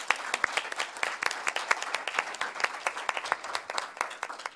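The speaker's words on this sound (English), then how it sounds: "can we please give a big round of applause for all this fantastic panel?" Audience applause for a panel at the close of a supply chain innovation conference session, brisk continuous clapping from a moderate crowd in a hall, fairly loud and alone.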